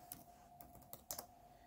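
Light, quick keystrokes on a computer keyboard spell out a font name, a few soft taps and small clusters spread over under two seconds, faint against a low steady hum.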